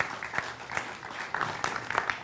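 An audience at a poetry recital gives brief, faint applause for a poet's lines, with soft scattered claps that come and go for a couple of seconds.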